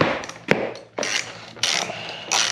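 Small mechanical clicks, taps and a ratcheting tool sound in short irregular bursts as a wheel is removed from a 2021 motorcycle, fairly close and quiet with gaps between each action.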